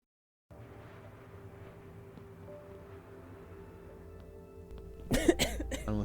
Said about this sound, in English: Hopefully the annoying cough will be done soon.